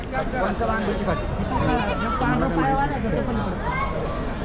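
Goats bleat over dense crowd chatter at a busy goat market in Chakan, Maharashtra, the calls overlapping near and far under constant voices.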